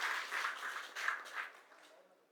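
Audience clapping in appreciation of two people at a devotional gathering, moderately loud bursts of scattered hands that swell twice and then fade away toward the end.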